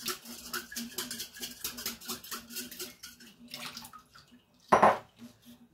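Rhythmic sloshing and rattling of water and an egg shaken in a jar, steady pulses for several seconds, then a pause and one louder splashy burst.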